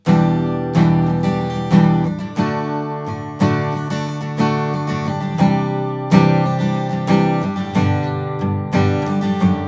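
A guitar strums the second chorus of a song in campfire style with standard tuning, rhythmic chords ringing out close and clear, no voices.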